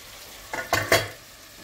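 Chopped tomatoes sauté in a hot pan at home, with three quick bursts of sizzling and stirring close by that rise and fade over a quiet background, with no talking.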